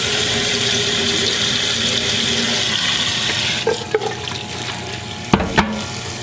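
Frozen green beans get rinsed under a running kitchen tap, a steady close rush of water pouring into a sink, ending in a few sharp knocks and splashes.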